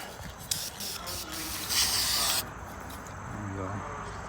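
A spray can coats a Honda D16Z6 engine part in short hissing bursts, one longer spray in the middle, close but faint, with quiet rustling and a brief murmur of a voice toward the end.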